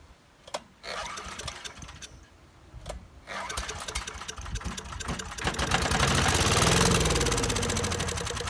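A Sears Craftsman 5HP air sweeper engine is pull-started, with several sharp rope-pull bursts and sputters before it catches into a loud, rising, rattling run that holds near and steady.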